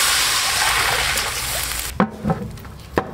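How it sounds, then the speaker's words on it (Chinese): Water pours steadily into a cooking pot being prepared for steaming king crab, a loud rushing splash that cuts off after two seconds, followed by a few sharp knocks and clinks. "加点水"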